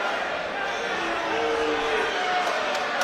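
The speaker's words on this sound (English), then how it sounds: "the crowd doesn't seem happy about that position" A boxing crowd at a live fight night voices displeasure at a ruling, a steady wash of loud, broad murmuring and jeering that fills the arena throughout, with commentary voices audible over the noise.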